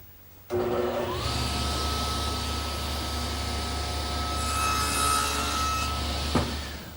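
A saw, guided by a block and T-square, makes shoulder cuts in a 2x3 bottom rail for an English garden bench; it starts abruptly, holds a steady motor whine for about six seconds, then stops.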